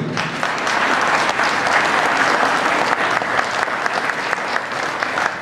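Steady, dense applause from an audience at a Lions Clubs congress in Honfleur, continuous and fairly loud throughout with no break.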